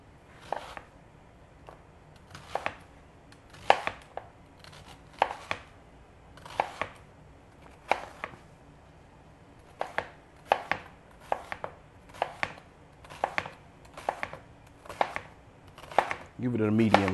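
A knife chops half an onion on a cutting board, a medium chop in a home kitchen: a series of sharp, close, fairly regular thuds arriving in quick bursts with short pauses, heard alone without talk.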